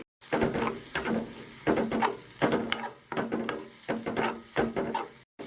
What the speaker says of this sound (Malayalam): ഞാൻ നന്നായിട്ട് ഇപ്പോൾ കൂട്ടി ഇളക്കി കൊടുത്തിട്ടുണ്ട്